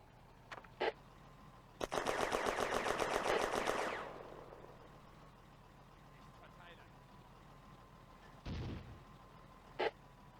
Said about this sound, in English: Russian artillery is targeting the woods on East Hill.